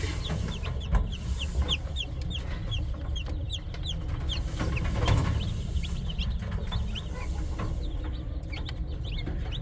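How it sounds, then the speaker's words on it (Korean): Yellow native-breed chicks cheep in a steady flurry of high, short peeps, close and fairly loud, over a low hum, with occasional deeper clucks from an adult chicken mixed in. "황색계 병아리입니다"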